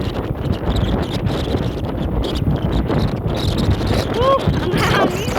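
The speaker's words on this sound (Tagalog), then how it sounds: "Ang hangin." Wind rushes across a hilltop at Suicide Cliff in Kowloon, Hong Kong, a steady rumbling buffet on the microphone with faint rustling and a brief whistling tone near the end.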